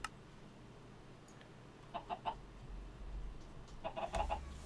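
Chickens in the modded Minecraft game cluck in two short clusters of quick clucks, faint against a quiet game background with a low hum and rumble.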